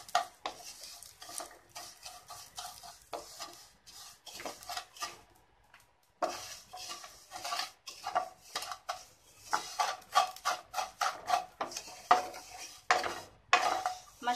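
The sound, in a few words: frying vermicelli (semai) in ghee while stirring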